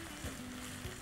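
Onions with ginger garlic paste sauté in a pan, giving a steady, soft sizzle with faint stirring scrapes and no voices.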